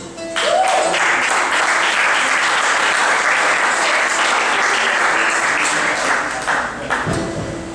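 Loud, sustained applause from a large crowd fills the whole stretch, easing off slightly near the end.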